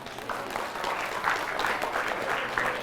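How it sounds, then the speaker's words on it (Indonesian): Audience at an outdoor Islamic religious lecture applauding, a dense, continuous patter of many hands clapping at moderate volume for a few seconds. "tepuk tangan orang kepanasan."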